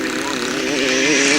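A 250 class grasstrack racing motorcycle revs hard with the throttle wound on, a loud, buzzing, continuous engine note rising slightly in pitch over a second and a half, with a commentator talking over it.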